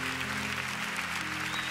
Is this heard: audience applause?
yes